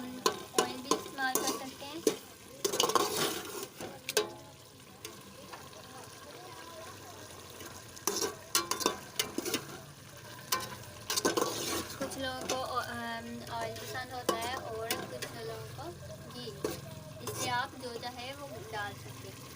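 Aloo keema fries in ghee in a pan with a steady sizzle, while a spoon stirs and scrapes against the metal again and again. A person talks over the cooking throughout.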